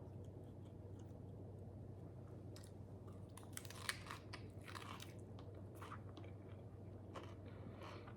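Biting and chewing a messy beef barbacoa taco topped with pickled onion, soft crunchy bites and wet mouth sounds over a low steady background hum, with no talking.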